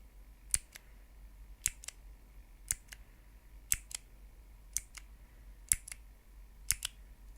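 Crisp clicks ring out in quick pairs about once a second in a quiet room, a soft, close tapping pattern from a color-sequence memory test with no voices.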